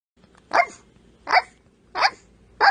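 A young woman imitating a dog with her voice, producing four sharp bark-like yelps spaced roughly evenly apart, close and fairly loud with quiet gaps between.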